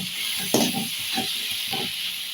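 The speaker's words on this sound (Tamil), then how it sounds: "தக்காளியை நல்லா வதக்கிக்கிடலாம்." Chopped tomatoes sauté in a pan of softened onions for a spicy crab curry, giving a steady hiss and sizzle broken by several short scraping bursts as they are stirred.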